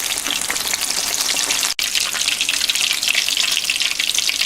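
Fish fillets in a gram-flour (besan) batter deep-frying in hot oil over a little above medium heat, giving a steady, dense sizzle and crackle that runs continuously with only a momentary break.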